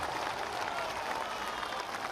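Audience clapping at a political party launch rally, a dense, steady wash of applause from a large crowd, continuous and fairly loud for the whole moment.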